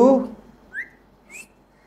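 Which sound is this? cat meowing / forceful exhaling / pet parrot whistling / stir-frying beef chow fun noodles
pet parrot whistling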